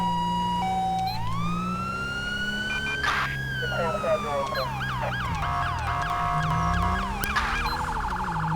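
A loud, wailing LAPD police car siren in GTA V sweeps up and down in pitch, shifting between long wails and rapid yelping bursts, with an electronic, synthetic tone.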